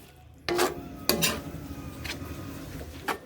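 Shredded papaya being stirred for atchara, with a few clinking scrapes of utensil against a bowl, close and fairly quiet, the sounds coming in brief separate bursts.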